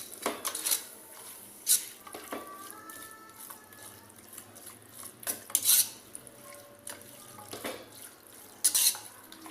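A spoon scrapes and clinks against a pot while spices are stirred into a mutton, potato and methi curry, with sharp metallic taps at intervals over a low background hum.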